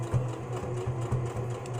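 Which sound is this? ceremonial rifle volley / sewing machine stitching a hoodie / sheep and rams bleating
sewing machine stitching a hoodie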